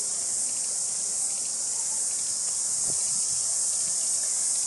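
Cicadas in a tree covered with the insects give off a dense, steady, high-pitched buzzing drone that never lets up, with faint rustling beneath.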